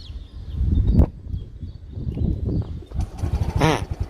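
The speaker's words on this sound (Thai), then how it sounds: "เดี๋ยวผมสตาร์ทให้ฟังเสียงของเครื่องยนต์เลยนะครับ" Faint clicks and soft mechanical noise, then the small engine of a 2019 Freego scooter catches and idles with a quiet, uneven putter.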